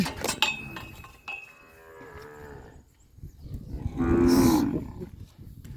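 A herd of cattle turned out onto an open field in the morning. A drawn-out moo sounds first, then after a short quiet spell a second, louder bellow rings out close by.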